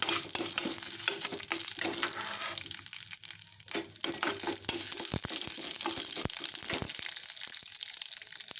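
Urad dal, chana dal, asafoetida and dried red chillies fry in hot oil for a Tamil-style chutney, giving a steady close sizzle with scattered pops and crackles and a few stirring clinks, with no talk.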